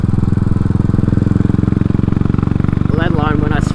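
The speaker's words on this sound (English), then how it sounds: "A lot less popping. farting through the exhaust, and that's just on map 1," Royal Enfield motorcycle fitted with a Race Dynamics Powertronic running map 1, idling with a steady loud thumping exhaust pulse while someone talks over it.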